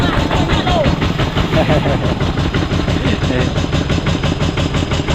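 A tractor engine runs steadily in a rural setting, its rhythmic low chugging continuous throughout and fairly loud, with someone talking over it.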